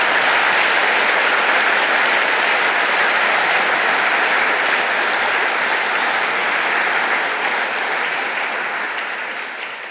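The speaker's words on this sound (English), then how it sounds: "I'm glad you all know who Don is, because you're clapping" Sustained audience applause at an award ceremony, dense and loud clapping from a large crowd that holds steady for nearly ten seconds before starting to taper off, with no talk over it.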